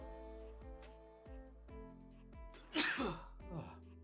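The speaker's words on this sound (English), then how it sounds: "I need to sneeze." A single sharp sneeze bursts out near the microphone, loud and brief, rising over a quiet background of football match commentary and crowd ambience.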